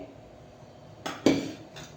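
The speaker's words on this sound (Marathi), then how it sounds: "आता मी हे उचलून दुसऱ्या शेगडीवरती ठेवणार आहे" A cooking pan used for roasting semolina is lifted and set onto another stove, giving two or three quick metallic clanks and a ringing scrape after a quiet moment.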